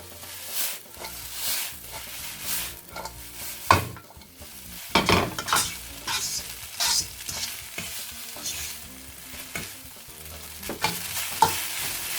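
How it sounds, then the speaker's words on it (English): Indomie instant noodles and vegetables being stir-fried in a pan over medium heat, with busy scraping, clattering stirring strokes over a steady sizzle, close and fairly loud, with no talking. "give it a stir for 2 to 3 minutes so that the noodles flavor to kind of sink in with the vegetables"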